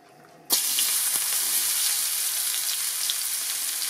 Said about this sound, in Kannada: ಈಗ ಇಲ್ಲಿ ಎಣ್ಣೆ ಬಿಸಿಯಾಗಿದೆ ಇದಕ್ಕೆ ಒಂದು ಮಧ್ಯಮ ಗಾತ್ರದ ಈರುಳ್ಳಿಯನ್ನ ಕಟ್ ಮಾಡಿ ಇಟ್ಕೊಂಡಿರೋದನ್ನ ಹಾಕ್ತಾ ಇದೀನಿ